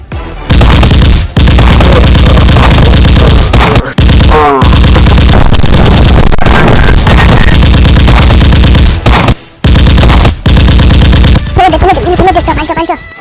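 Cartoon comedy gunfire effects: loud, rapid machine-gun bursts and booming shots in repeated volleys, broken by brief pauses, with a short sliding whistle-like tone partway through.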